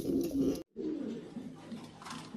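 Soft, low cooing of Danish pigeons at a pigeon market rolls on steadily, briefly cut off by a silent gap, then resumes with a murmuring flock close by.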